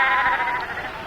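A single sheep gives one drawn-out, wavering bleat, close and moderately loud against a quiet background.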